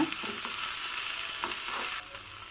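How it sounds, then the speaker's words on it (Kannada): Onion frying in a pan for a home-style winter curry, giving a steady bright sizzle with a few soft stirring knocks, close and even and dropping slightly quieter near the end. "ಈರುಳ್ಳಿ ಸ್ವಲ್ಪ ಕೆಂಪಗಾಗೋವರೆಗೂ ಇಟ್ಕೊಳ್ಳೋಣ"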